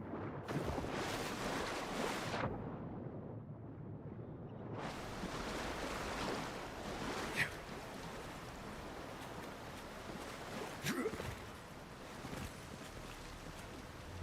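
A waterfall in the video game Avowed gives off a steady broadband rush of falling water. It is moderately loud, with a brief drop in the middle before it swells back.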